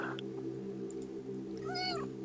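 A cat meows once, a rising and falling cry near the end, over a steady low hum in the room.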